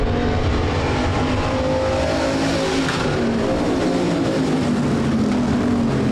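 USRA Hobby Stock race cars roar around a dirt speedway at a nationals night, a dense continuous engine wash of revving and passing cars, loud and unbroken throughout.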